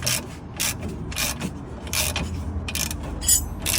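Lock nuts being tightened on the front right lower ball joint of a 2008 Toyota Avensis 2.0 D4D T270: close, repeated metallic ratcheting in short rhythmic bursts with scraping between strokes, no talk.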